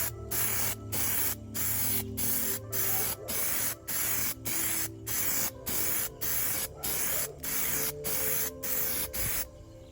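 A smoked side marker gets a spray coat of tint, heard as a run of close, loud hissing aerosol bursts in an even rhythm, about a dozen in a row with short gaps.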